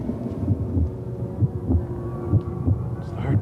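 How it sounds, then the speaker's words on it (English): Slow, steady heartbeat sound effect in a TV drama scene, low muffled thumps pulsing at a regular rhythm over a faint hum, with no talking. "It's the heartbeat. It's steady and slow right now."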